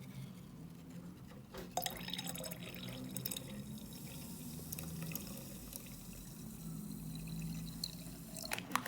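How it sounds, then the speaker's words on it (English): Coca-Cola is poured into a container at home, giving a soft, continuous splashing and dripping of liquid that runs at low volume for several seconds. "So here we have Coca-Cola, so pour Coca-Cola into,"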